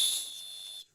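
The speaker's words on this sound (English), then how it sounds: "Make we blow whistle for him." A single shrill whistle blast is blown in celebration of a footballer's trophy win, steady and piercing for just under a second before cutting off cleanly.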